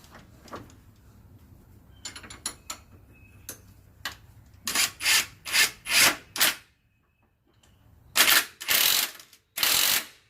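A ratchet wrench tightens a Polaris 850 front wheel bolt: scattered light clicks first, then several loud bursts of rapid ratcheting, close up with pauses between strokes.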